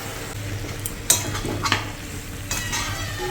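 Potatoes stir-fried in a spice masala in oil, a steady close sizzle with a few sharp spatula scrapes and clinks against the pan, no voices.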